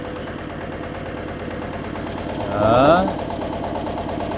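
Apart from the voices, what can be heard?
walk-behind power tiller engine driving on road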